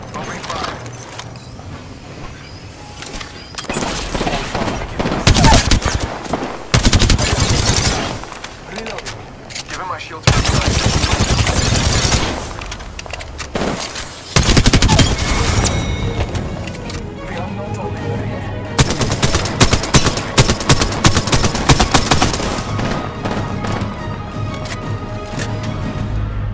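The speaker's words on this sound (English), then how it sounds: "Opening fire." Game gunfire in Apex Legends comes in loud bursts and scattered shots, mixed with other in-game effects and occasional voice lines, with some quieter gaps between volleys.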